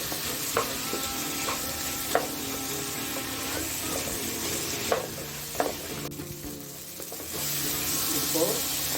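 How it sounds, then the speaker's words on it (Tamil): Ingredients for a pomfret fish curry with peanuts and oregano sauté and sizzle in a pan, a steady frying hiss broken by sharp stirring scrapes and clinks, with a brief quieter gap before the sizzle swells again. "இதை நல்லா வதக்கிக்கணும்"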